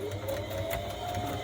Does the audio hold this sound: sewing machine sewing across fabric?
yes